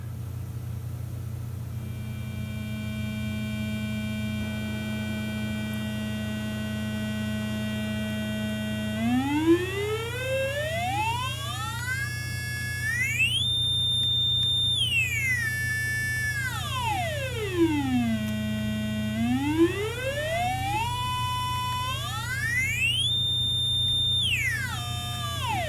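A synth tone made from Arduino PWM passed through a two-stage RC filter of 10K resistors and 100 nanofarad capacitors, a buzzy pitched note that holds steady, then sweeps up, falls and rises again, with a constant low hum underneath.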